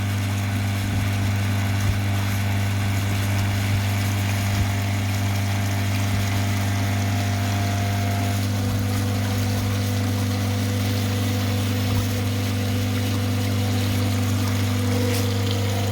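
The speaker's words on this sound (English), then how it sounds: "I've got a pump. So I pump the wine out of the bucket" Pump drawing freshly pressed Shiraz wine out of a bucket beside a basket press, a steady, continuous motor hum with a constant drone and faint watery churn throughout.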